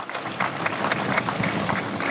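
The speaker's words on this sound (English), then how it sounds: "Yeah, you can clap your hands on that." An audience at a press conference in East Chicago, Indiana applauds: a dense, steady patter of many hands clapping at moderate volume, close and continuous for the whole stretch.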